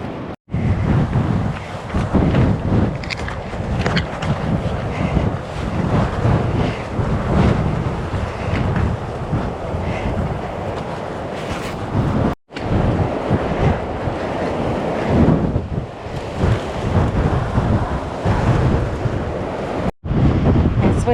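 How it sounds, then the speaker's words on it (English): Strong wind buffets the microphone by the sea between Cape Reinga and Twilight Beach, New Zealand, a loud roaring rush with surf underneath, broken by two brief dropouts. "It's windy."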